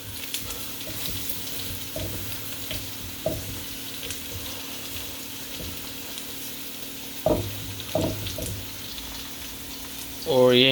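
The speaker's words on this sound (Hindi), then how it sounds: "अब हम इसमें सारे मसाले डाल रहे हैं और इन्हें हम अच्छी तरह मिक्स करेंगे जिंजर एंड गार्लिक में।" Spices being stirred into ginger and garlic frying in a pan for bhindi masala, with a soft sizzle under repeated scrapes and clinks of the spoon, then a louder burst near the end.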